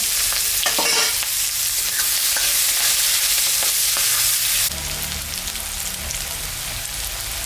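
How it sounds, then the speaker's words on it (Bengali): Onion hits hot oil with white cardamom, cumin and dried chilli, giving a loud, steady sizzle with stirring scrapes; the frying briefly drops in level partway through but continues to the end. "আমি দুটো সাদা এলাচ সম্বরা দিলাম, জিরা শুকনো লঙ্কা সম্বরা, পেঁয়াজটা দিয়ে দিলাম।"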